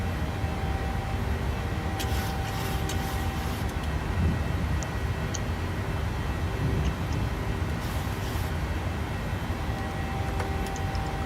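Airliner engines in Microsoft Flight Simulator 2020 during the climb after takeoff, a steady broadband roar with a low rumble that holds constant and close, with a few faint clicks on top.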